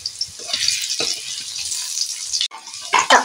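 Potatoes hit hot oil in a frying pan, breaking into a bright, continuous sizzle with a few soft clinks of stirring and a fresh surge of crackling at the end.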